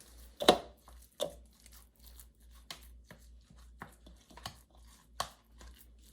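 Raw meatloaf mixture worked by hand in a bowl, giving irregular wet squishing and crunching bursts with quiet gaps between them. The sounds are close and moderately loud, with no talking.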